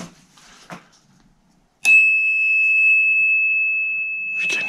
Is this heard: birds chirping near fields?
no